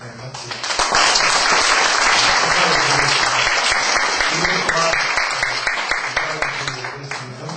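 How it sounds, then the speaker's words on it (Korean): A church congregation bursts into warm, sustained applause during a service where deacons and church officers are being appointed; the clapping is loud and full-room, rising quickly and holding steady before tapering off toward the end. "우리 뜨거운 박수로 같이"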